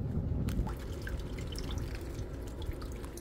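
Water from a Mitsubishi City Multi air conditioner showing error 2502 drips and splashes into a plastic bag, quick irregular drops landing close over a steady low watery rumble.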